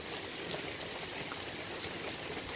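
Heavy, steady rainfall pours down in a broad continuous hiss with scattered louder drop splashes, alone with no talking.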